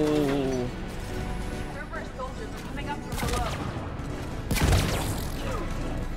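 Gunfire in a shooter video game: bursts of rapid shots and sharp impacts, with a louder crack near the end, mixed with game sound effects and someone talking over the action.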